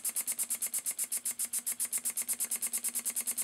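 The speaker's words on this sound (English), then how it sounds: "It's running on hardly any air pressure." An Elmer Verberg beam engine runs on about 3 psi of air, puffing in a fast, even rhythm of exhaust chuffs, close and steady throughout.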